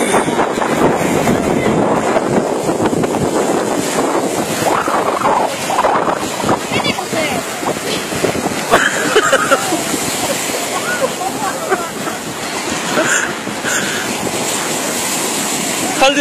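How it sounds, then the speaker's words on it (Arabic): Strong wind at a beach at Sidi Abdelaziz in Jijel, roaring steadily into the microphone with surf washing underneath, constant and loud throughout, with voices faintly mixed in. "ريح ريح ريح ريح"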